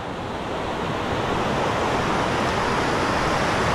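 A small mountain torrent rushes along a hiking trail, giving a loud, steady wash of water close by with no break and no voices.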